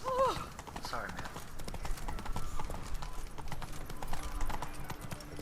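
Hooves of the horse Roach clatter in a rapid, rhythmic gallop across the game world, close and continuous, with a short whinny at the start and a voice speaking over parts of it.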